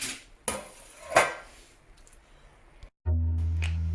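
Chicken biryani mixed in a pot, a few sharp clinks and scrapes of a metal spoon against the vessel, close and fairly loud, followed by a steady low hum.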